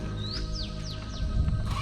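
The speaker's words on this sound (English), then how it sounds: "Look, there's a bulbul over there." A bulbul calls with a run of four quick descending whistled notes, clear and moderately close, outdoors near the Adisham Bungalow in Haputale, Sri Lanka, over steady low background hum.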